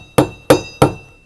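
A steel box is used like a hammer to drive a nail into wood. Three sharp, loud metallic knocks land at an even pace, each ringing briefly before fading.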